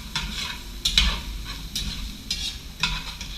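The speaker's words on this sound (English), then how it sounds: "And stir that in. This kind of thickens up the mixture." A crawfish fettuccine mixture is stirred in a hot pan, giving a steady low sizzle broken by a few soft scraping strokes of the spoon at an irregular pace, heard close up with nobody speaking.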